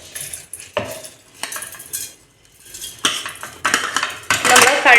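Soaked, washed and drained rice is tipped and scooped into a mixer grinder jar, making close, repeated clinks and rattling scrapes of a spoon against the jar, with grainy rustling that grows louder toward the end.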